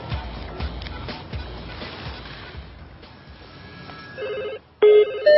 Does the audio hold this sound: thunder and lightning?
no